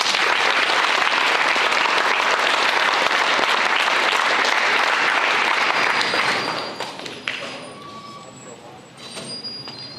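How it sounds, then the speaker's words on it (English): Audience applause at a high school baseball signing day, loud sustained clapping that fills the room for about six seconds before thinning out and fading, with a few thumps and low murmurs as it dies down. "Round of applause."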